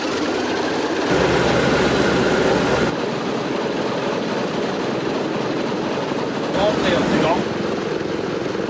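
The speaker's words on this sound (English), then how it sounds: "The first engine starts immediately." Radial piston engine on a restored Douglas DC-6 airliner starting up, a loud rough mechanical clatter and roar, with a brief surge partway through and voices speaking over it.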